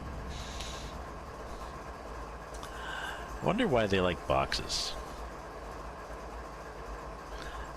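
A train runs in Train Simulator 2019 on the Canadian mountain pass between Connaught Tunnel and Griffith. A steady rail rumble carries on with a short burst of metallic squeal and clatter, while a person talks over it.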